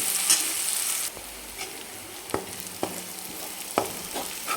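Raw ground spice paste for a mixed-lentil sandgi curry is stirred and sautéed in a hot pan, a bright sizzle at first easing to a softer fry, broken by a few sharp spatula scrapes, close and without talk.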